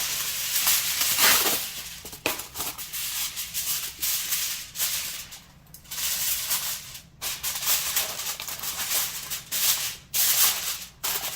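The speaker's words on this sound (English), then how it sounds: "Now I'm going to cover it up with aluminum foil." Aluminum foil crinkles and rustles in repeated bursts as it is pressed over a dish of Azorean pulled pork before baking, a close, fairly loud papery crackle with brief pauses and no talking.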